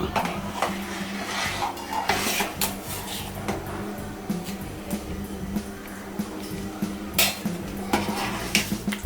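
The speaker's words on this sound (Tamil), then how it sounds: "வேகிற வரைக்கும் இதை நம்ம அடிபிடிக்காமல் கொஞ்சம் கிளறிக்கிட்டே இருக்கணும், கிண்டிக்கிட்டே இருக்கணும்" A spoon scraping and knocking inside a pot while millet sweet pongal is stirred to keep it from sticking, with steady close clinks and scrapes and no talking.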